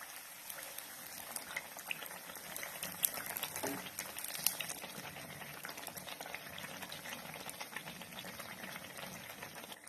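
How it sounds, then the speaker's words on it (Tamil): Sweet appam for Karthigai Deepam fries in a pan over a medium flame, giving a steady, close crackling sizzle with fine bubbling that holds through the whole stretch and has no talk. "இது அப்படியே மீடியம் ஃப்ளேம்ல வச்சு வேக விட்டுறலாம்."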